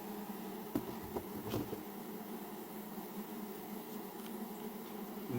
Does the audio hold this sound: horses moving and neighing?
no